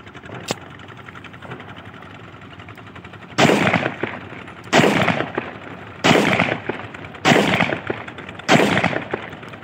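Five loud, close single shots from a 30 bore Russian-copy pistol during outdoor test firing, spaced roughly a second apart after a quiet lead-in, each crack followed by a short echoing tail.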